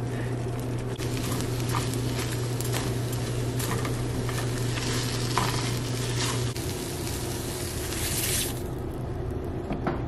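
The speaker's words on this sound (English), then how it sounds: "There we go, got the eggs cooking." Eggs fry in a pan with a steady, loud sizzle and crackle that persists throughout, close up, with occasional stirring or scraping noises and a low hum underneath.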